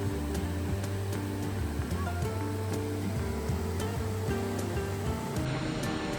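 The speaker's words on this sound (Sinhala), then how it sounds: "වතුර වැටෙන හඬයි, ගස්වල කොළ හෙලවෙන හඬයි," Steady rushing water from a waterfall in Sinharaja fills the clip, a constant broad roar, with a low rumbling pulse underneath and no voices.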